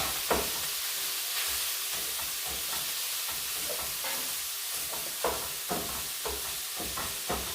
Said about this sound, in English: Alright, let's check this beef out. It's browning up pretty nicely.